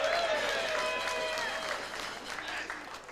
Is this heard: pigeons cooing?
no